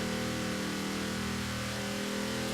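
BJ Baldwin's trophy truck in Forza Horizon, a steady, loud engine drone pulling hard through the gears, with sustained harmonic tones running unbroken and no talk.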